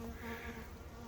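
Honey bees buzz steadily around their hives in a beekeeping yard, a dense, continuous drone with no voices.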